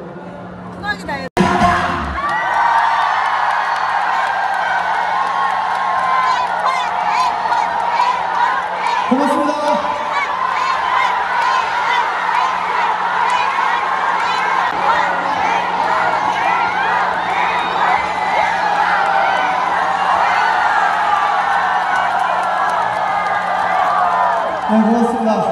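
A concert crowd at the 2023 Goesan pepper festival cheers and shouts continuously for about twenty-five seconds, a loud sustained roar of many voices with whoops rising over it.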